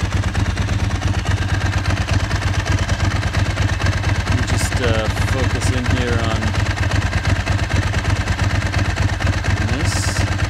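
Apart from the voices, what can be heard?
Ducati 996 motorcycle engine idling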